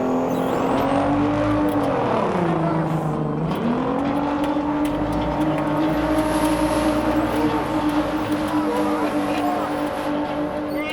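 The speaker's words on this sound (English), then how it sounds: "tell him to spool up his truck" A Cummins diesel truck engine revs and spools up at a farm show, a loud continuous drone that dips in pitch and then climbs and holds steady, with a voice speaking over it.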